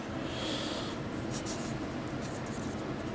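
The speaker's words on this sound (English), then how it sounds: "I'll try to write that here with the other hand." Handwriting on a board in a timeline lab, a soft continuous scratching and scraping of the marker strokes, close by, with a couple of brief louder taps partway through and no talking.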